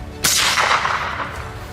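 During a wild boar hunt in an open field, a single sharp gunshot cracks out nearby, then a broad echoing tail rolls away across the field and fades over about a second.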